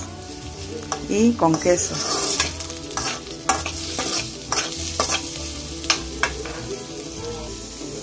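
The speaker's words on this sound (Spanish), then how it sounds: "voy a guisar la salsita roja para las tortitas que voy a hacer ahorita" Red salsa sizzling and being stirred in a pan for nopal and quelite patties, with a constant frying hiss and repeated scraping stir strokes; a person speaks briefly.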